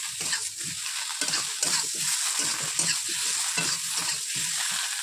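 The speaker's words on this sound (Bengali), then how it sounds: "মানে ওটাও ভাজা হবে আর এটাও ভাজা হবে। দিয়ে দিলাম বেগুন আর আলু।" Eggplant and potato pieces frying with spices in a pan, a continuous close sizzle with brisk, steady stirring scrapes throughout and no talk.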